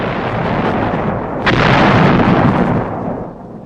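Army engineers' demolition blast in a World War 2 US Army documentary: a single loud boom in old film sound, rising out of a constant noisy roar and trailing off into rumble.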